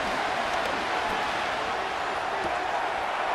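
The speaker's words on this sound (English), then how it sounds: "This crowd urging the defense on" Stadium crowd noise in the Madden 25 football game, a steady dense roar urging on the defense on third down, loud and continuous throughout.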